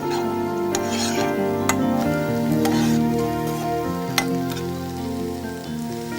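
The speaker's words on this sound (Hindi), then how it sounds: "प्याज हम सिर्फ ट्रांसपेरेंट होने तक ही भूनेंगे।" Onions sizzle in a pan while being fried until translucent for a soup and stirred steadily, giving a constant crackle punctuated by sharp clinks of the spoon against the pan, over a steady tonal hum.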